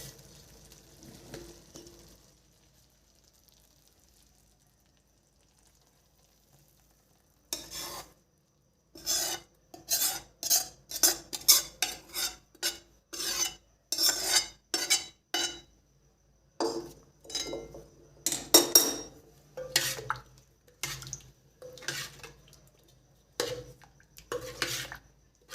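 Gravy is poured into dal in a pot and stirred with a metal spoon, producing repeated scraping, clanking strokes in irregular bursts after a quiet start.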